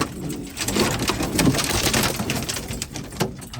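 Homing pigeons cooing in a rooftop loft, soft low cooing under a wash of steady outdoor noise, moderately near.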